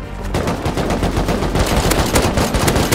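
Rapid automatic gunfire in a modded Rust boat-wars game server, a loud, sustained burst of closely spaced shots continuing for the whole stretch without talk.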